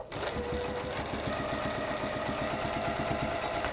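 A sewing machine stitches a seam down one side in a workshop, running at a steady, rapid mechanical rhythm with a fine repeated clatter that stays close and even from start to finish.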